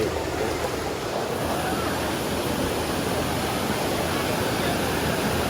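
A waterfall roars in a steady, loud, unbroken rush of white water from start to finish, with no pauses or other sounds standing out.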